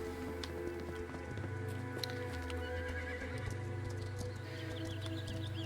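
Horses in a video game, with a loud whinny ringing out over a steady clip-clop of hooves and an ambient music bed, close and clear with no talking.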